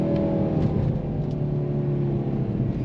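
2023 Mercedes-AMG C43 engine pulling hard under acceleration, a steady dense rumbling drone that holds level throughout, heard from inside the car with no talk.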